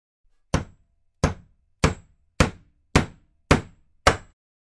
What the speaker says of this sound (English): I've been smashing stuff with my hammer